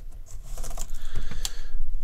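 Fingers press a replacement keyboard down into its latches on an HP Pavilion g17 laptop, giving a run of close plastic clicks and taps with soft handling noise between them.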